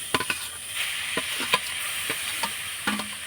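Freshly grated coconut is stirred in a wok over a lit stove for a pitha filling, with repeated sharp spatula scrapes in an uneven rhythm over a soft, steady sizzle and no voices.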